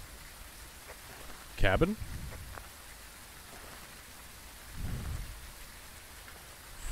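Heavy rain pouring down in the Phasmophobia horror game, a constant wash of downpour with a sharp crack of thunder and a later low rumble, while a player speaks briefly.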